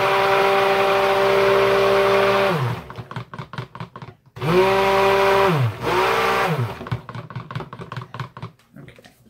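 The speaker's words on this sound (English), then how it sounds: "we blend up our raspberry a little bit." A kitchen blender whirs through raspberries in loud bursts, each run spinning up and winding down, with pauses of clattering and tapping between runs.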